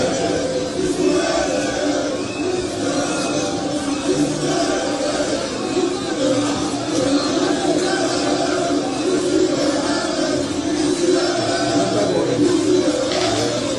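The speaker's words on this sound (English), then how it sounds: "we have a crowd gathering in front of the reason" Outdoors, a gathering crowd at an NPP press conference on the Techiman South election keeps up a steady murmur of overlapping voices and chatter, fairly close and even throughout, with no single voice standing out.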